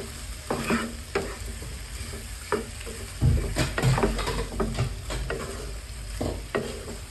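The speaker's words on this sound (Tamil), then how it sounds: "நம்ம வடிகட்டி வச்சுருந்த பாஸ்தாவை இதோட மிக்ஸ் பண்ணி நல்லா கலந்து வேக விடுறோம்" Drained penne pasta being stirred into white sauce in a pan, with a soft sizzle and scraping, sloshing stirs that come in irregular strokes, close and fairly quiet.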